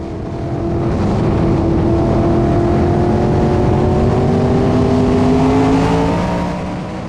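In-car sound of a race car at Indianapolis Raceway Park, the engine droning loud and close as it climbs steadily in pitch through the gears, rising and falling tones over a constant roar, no voices.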